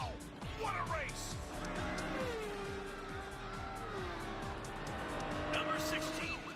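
A race car in the Europa 400 roars past at high speed, with engine whine rising and falling and tires squealing, all buried under loud, busy background music and excited voices.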